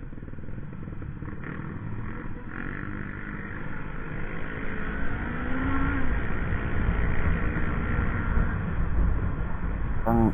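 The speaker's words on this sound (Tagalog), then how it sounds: "kasama itong aking motor na si Ninja" A Kawasaki Ninja 400 motorcycle on a ride, its engine droning steadily with wind rush, the note rising and growing louder midway as the bike speeds up.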